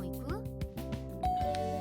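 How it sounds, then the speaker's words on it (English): A doorbell chime rings in a video game, a clear sustained tone rising near the end over background game music and a child-like voice chattering throughout. "That was the doorbell."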